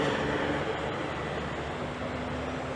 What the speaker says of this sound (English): You can see train comes out the ground and goes into this overpass